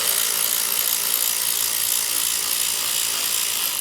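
A ratchet removes bolts from the cooling fan of a 2015 Honda Accord Hybrid, giving a continuous rapid clicking whir close to the mic that cuts off sharply at the end.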